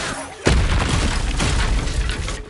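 An Expulso spell detonates in Hogwarts Legacy on PS5, a sudden loud boom followed by a dense, roaring blast and crackling debris that holds for about two seconds before tailing off.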